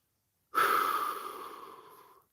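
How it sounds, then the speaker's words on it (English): A single long, breathy exhale during a guided meditation, close and soft, trailing off slowly over about two seconds with no talking. "Imagining the air you're breathing out, empowering the trees"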